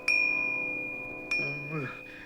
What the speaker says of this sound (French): c'est la pendule qui m'a réveillé